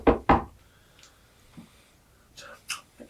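Two sharp, close knocks on a wooden door come in quick succession at the start, followed by faint, scattered softer sounds.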